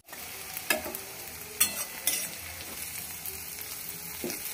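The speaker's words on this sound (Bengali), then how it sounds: "পেঁয়াজটা একটু লাল লাল করে ভাজা হয়ে গেছে।" Onions fry in a pan for a mutton masala curry, a steady close sizzle broken by a few sharp scraping stirs of a spatula, with no voices.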